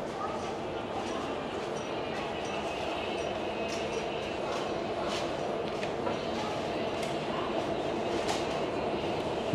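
WAP4 electric locomotive number 22865 of South Eastern Railway, Santragachi division, approaching on the line: a steady, loud rolling rumble with faint rail clicks throughout, no pauses.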